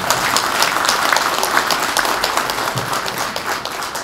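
A crowd at a political party leadership meeting in Daejeon gives sustained, fairly loud applause, a steady wash of many hands clapping from start to finish.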